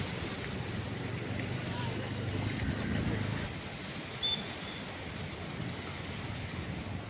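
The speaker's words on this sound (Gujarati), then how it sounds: "તો જો આ નદીમાં પણ ઘોડાપૂર આવી રહ્યું છે." Floodwater from heavy rain rushes down a swollen river near Mahuva in Bhavnagar district, a broad continuous roar mixed with gusting wind buffeting the microphone.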